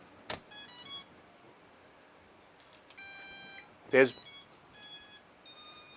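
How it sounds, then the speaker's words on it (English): Electronic beeps from a small drone syncing with its controller: a single tone followed later by a quick double beep, with some faint background noise between them. "once the battery is inserted, you'll hear one beep, and short time later, you'll hear a beep beep"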